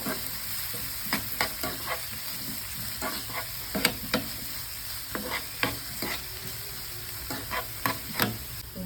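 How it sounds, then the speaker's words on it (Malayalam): Onion frying in hot ghee while being stirred: a soft continuous sizzle broken by frequent sharp scrapes and taps of a spoon against the pan, close and steady, with no talking. "നെയ്യ് ചൂടായ ശേഷം ആദ്യം ഉള്ളിട്ട് കൊടുക്കാം"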